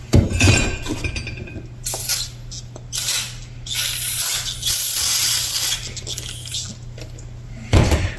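Brake cleaner sprayed from an aerosol can onto 4R100 transmission parts in a DIY rebuild, several hissing bursts of a few seconds each, close and loud, mixed with light metallic clinks and a low steady hum.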